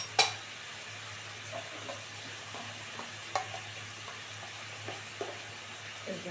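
Cauliflower stir-fried in a pan with turmeric gives a faint, steady sizzle, broken by a few soft taps and scrapes of stirring.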